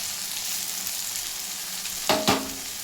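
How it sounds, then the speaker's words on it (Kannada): Poppy seeds go into hot oil in a pan for an avarekalu dal sambar, over a steady close frying hiss that ends with two sharp sizzling crackles near the end. "ಸ್ವಲ್ಪ ಗಸಗಸೆ ಹಾಕ್ತಿದ್ದೀನಿ"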